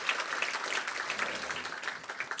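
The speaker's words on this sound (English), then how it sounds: "we'll give them a round of applause" Audience applause at a university calendar program honoring women, with a moderate crowd clapping steadily and continuously at a slight distance.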